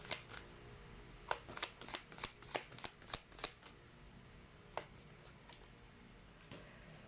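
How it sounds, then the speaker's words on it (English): Oracle cards being shuffled by hand, a run of about a dozen quick, crisp riffling flicks close to the mic, then a few slower single cards slid and pulled out. The sound is quiet, with no talking. "So let's pull up more cards here."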